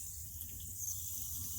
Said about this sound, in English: I opened up the radiator. I'm going to put some water in it